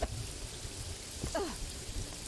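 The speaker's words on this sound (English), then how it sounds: "Nice and rainy." Steady rainfall in the video game Paradise Killer, a soft, constant hiss of falling rain with a faint brief rumble partway through.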